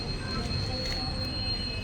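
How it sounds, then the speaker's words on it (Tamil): A train at Tirunelveli railway station gives a steady, close rumble with a thin, high metallic squeal from the wheels running throughout. "இப்போ நம்ம எங்கே வந்திருக்கோம் பார்த்தீங்கன்னா ரயில்வே ஸ்டேஷனுக்கு தான் திருநெல்வேலி ரயில்வே ஸ்டேஷனுக்கு"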